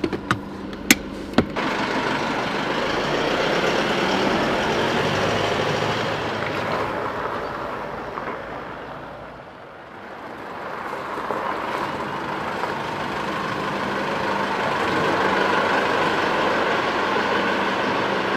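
A 4WD vehicle on a warm-up drive makes a steady, loud interior road and engine rumble that dips briefly midway before rising again.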